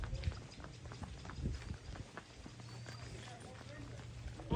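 Horse being led out of its stable, hooves clopping irregularly on the ground at moderate distance, faint under a voice talking.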